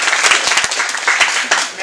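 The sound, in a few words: audience applause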